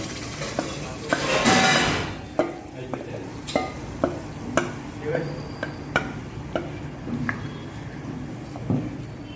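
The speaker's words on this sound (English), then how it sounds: "Now add tomato onion masala." Tomato onion masala sizzles in a pan on a Kashmiri home kitchen stove while a utensil stirs and scrapes it. A burst of loud frying comes first, then rhythmic scrapes and clinks at close range over a steady hiss.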